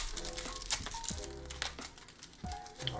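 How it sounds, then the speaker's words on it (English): Bakugan toy packaging being cut and opened, giving close crinkling and crunching plastic sounds with sharp snips and rustles over three seconds. "let's go ahead and cut into them"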